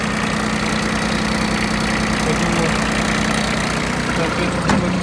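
A Kubota Aste A14 Japanese mini tractor engine idles nearby with a steady, loud, even chugging throb that holds throughout, and a voice speaks faintly underneath.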